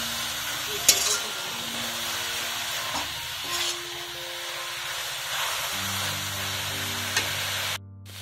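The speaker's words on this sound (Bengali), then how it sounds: "মিনিট 5 সময় ধরে ভালো করে গাজরটাকে নাড়াচাড়া করতে হবে যতক্ষণ না রসটা একটু শুকিয়ে যায়" Carrots with a little turmeric stirred in a frying pan, a steady soft sizzle with faint scrapes and occasional louder clinks of the spatula, close and fairly quiet.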